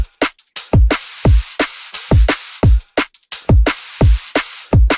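A liquid drum and bass drum loop built in FL Studio, layered with a second loop, hits hard and up front. Punchy kicks and crisp snares ride over a bright, hissy top end in a fast, steady groove, with no voices.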